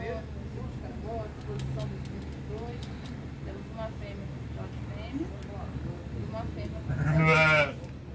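Sheep at a 2022 livestock exhibition in Brazil bleat several times over a steady crowd murmur, with a louder, nearer bleat near the end while people talk in the background.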